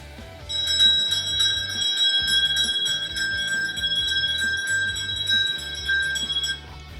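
A bell rings for a Pavlov conditioning example, giving a bright, sustained metallic tone with shimmering overtones. It rings for several seconds over a soft, pulsing low backing, then fades out near the end.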